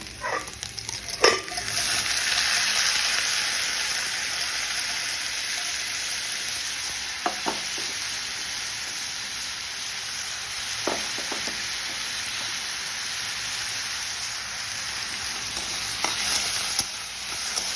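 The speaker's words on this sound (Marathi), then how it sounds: "भगर देखील छान परतवून घ्यायची असते" Barnyard millet stir-fried in a pan, a steady broad sizzle running throughout with a few soft scraping stirs and light clinks, close and unaccompanied by voices.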